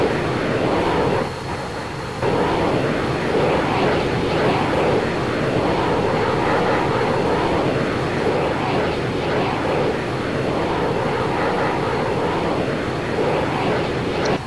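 A-164 Wipeout jet engines roar in the game Arma 3, a loud, steady, broadband rumble with slight swells that holds for the whole stretch, with no talking over it.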